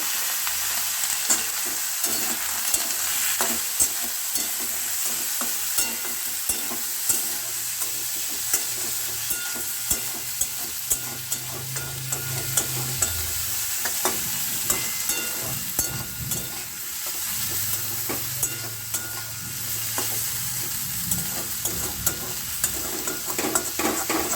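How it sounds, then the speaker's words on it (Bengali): Potatoes frying until reddish alongside pointed gourd and onion, a continuous near sizzle broken by repeated spatula scrapes and taps on the pan, with a low rumble underneath. "বা আলুগুলো দিয়ে খুব ভালো করে লাল লাল করে ভেজে নেব"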